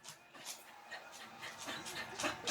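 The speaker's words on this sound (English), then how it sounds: "Ignore the dog." A dog whimpers in a string of soft, short whines and yips, fairly faint and irregular, coming in and out across a couple of seconds.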